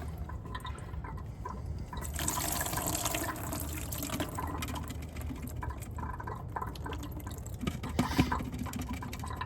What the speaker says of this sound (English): All right, so the filter is drained